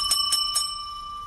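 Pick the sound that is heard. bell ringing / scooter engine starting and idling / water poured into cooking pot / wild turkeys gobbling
bell ringing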